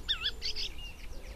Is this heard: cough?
no